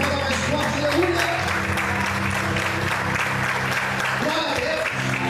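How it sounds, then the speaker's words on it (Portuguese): In a church, the congregation claps loudly and continuously, a thick, even roar of applause over sustained low instrumental tones, with scattered voices and a brief swell near the start. "Sempre a Deus aplauda mais forte"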